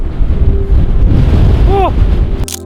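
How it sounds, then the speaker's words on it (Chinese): Strong wind buffets the microphone on the stormy coast of Norway's Lofoten Islands, a loud continuous roar with gusts, a short whistling call partway through. "风太大了。"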